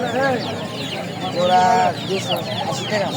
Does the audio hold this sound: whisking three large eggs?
no